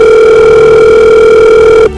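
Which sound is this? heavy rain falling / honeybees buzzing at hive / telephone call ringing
telephone call ringing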